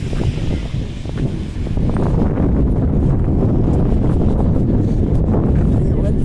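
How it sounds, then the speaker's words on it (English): Cold winter wind gusting across the microphone outdoors on a walk between a bus terminal and public gardens, a steady loud low rumble that holds throughout with no talking. "That wind is cold."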